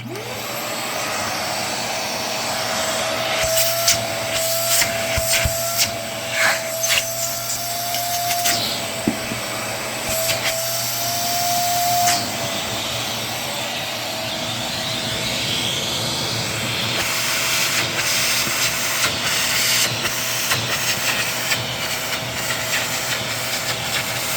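A Vevor ash vacuum switched on and running, a loud continuous whining roar with a steady motor tone held close for the whole stretch, with no voices.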